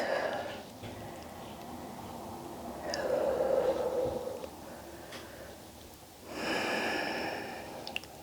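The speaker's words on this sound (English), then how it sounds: "and breathe" Soft, close breathing during a yoga stretch in a vinyasa session, with a few audible inhales and exhales, including a couple of louder breaths, over a quiet background and no talking.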